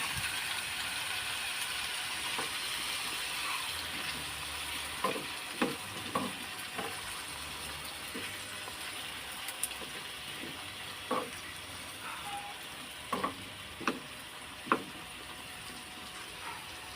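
Vegetables for Filipino pakbet sauté in a pan, a soft steady hiss and crackle with intermittent scraping clicks of a utensil stirring, fairly quiet and even, with no speech.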